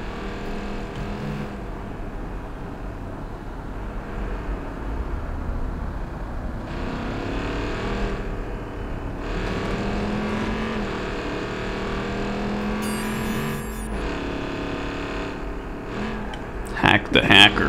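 Car engine from the Elko driving in Watch Dogs 2, a steady mid-level motor drone cruising throughout with game sounds layered in and a brief burst near the end.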